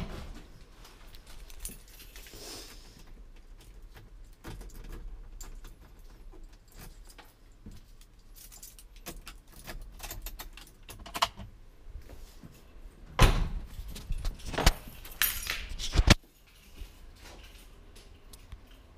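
Keys jangling during work on a Subaru Brat, with scattered clinks and rustles over a low background, then a louder burst of metallic jingling near the end.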